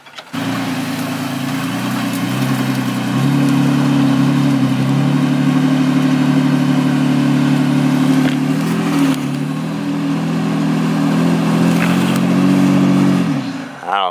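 A lifted third-generation Toyota Tacoma runs its engine at high, steady revs while its wheels spin in mud, a loud continuous drone that rises slightly partway through and drops off at the end.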